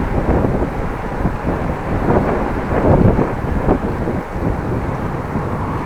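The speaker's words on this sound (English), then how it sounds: "looks like I have wind from the side now." Heavy crosswind buffeting a microphone on a bicycle ride through a Dutch city past tall buildings, a loud, rumbling, gusty roar that swells and dips without letup.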